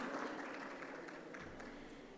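Faint, distant audience applause at an education technology event in Mexico, steady clapping from a crowd welcoming a panel guest.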